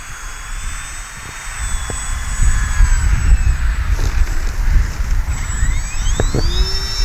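The electric motor of an RC OV-10 Bronco model airplane whines steadily at an airfield, a rising and shifting tonal hum over rumbling wind and ground noise, with brief knocks and a pitch change near the end.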